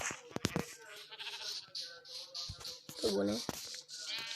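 Sheep bleat in a block-building video game, a wavering cry rising near the middle among clicky game sounds and other short noises, with a voice speaking briefly over them.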